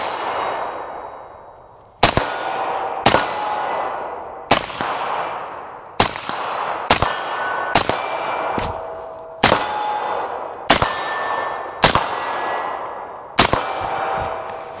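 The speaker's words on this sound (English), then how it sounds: "Let's send some rounds," A suppressed AR-15 fitted with a Surefire suppressor fires about eleven crisp, metallic-sounding shots at an uneven pace, each followed by a brief ringing tail, close by with no talking.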